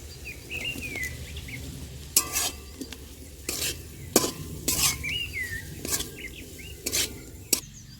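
Fried potatoes with cumin and coriander powder are stirred through hot oil in a frying pan, bringing steady sizzling and several sharp spoon scrapes against the pan, close up with no talking.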